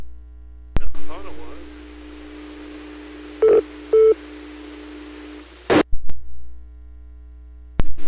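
A loud continuous tone runs through most of the clip on an amateur radio repeater port, steady and prominent, with brief bursts of keying noise and touch-tone-like beeps near its start and end.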